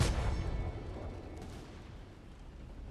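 A booming volley fires in a video game, opening with a heavy blast that rolls and fades into a long, low rumble with faint crackle.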